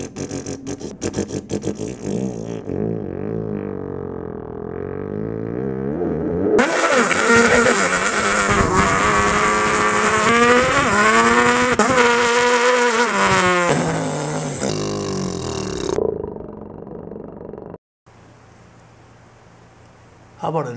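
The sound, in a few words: voice imitating Peugeot 206 rally car engine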